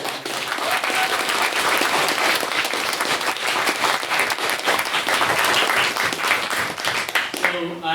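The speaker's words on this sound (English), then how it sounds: "give a huge round of applause" Loud, sustained applause from a debate competition audience, dense clapping running steadily for several seconds before a voice begins speaking at the end.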